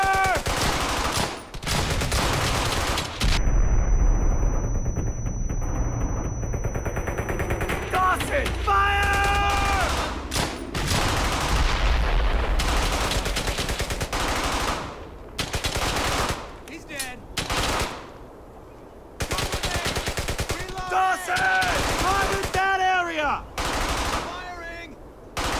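Sustained machine gun suppressing fire in the World War II shooter Brothers In Arms: Hell's Highway, long rattling bursts and scattered gunshots from several weapons, with soldiers shouting over the battle throughout.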